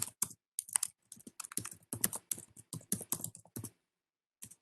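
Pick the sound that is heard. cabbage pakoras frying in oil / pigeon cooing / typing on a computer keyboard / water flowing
typing on a computer keyboard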